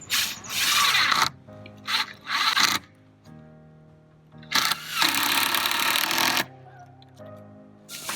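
A power drill drives screws into a 2x4 pallet bracket in several loud whirring bursts of varying length, separated by brief quieter pauses with a low mechanical hum.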